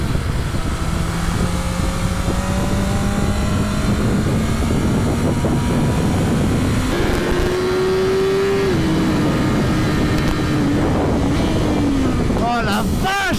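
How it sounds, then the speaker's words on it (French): A BMW M1000RR sport motorcycle engine revs up through the gears while riding, with rising and falling tones under strong wind rush and close, loud, constant sound throughout. "C'est hyper vif comme moto."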